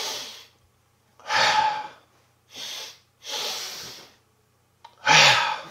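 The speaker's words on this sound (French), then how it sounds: "Il y a aussi une technique de respiration qui permet de sortir du stress très rapidement." Double inhalation breathing for stress relief: a series of close, audible breaths, sharp sniffing inhales and longer airy exhales separated by short pauses, with a final strong inhale at the end.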